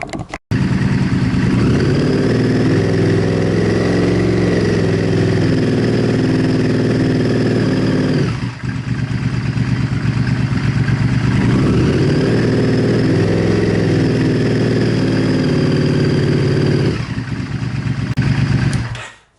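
A motorcycle engine runs steadily and loud close by throughout, holding a constant throttle from a DIY cruise-control clamp, with two brief dips in level around the midpoint and near the end.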